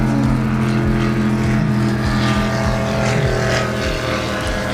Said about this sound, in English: hear that engine. That's the inboard.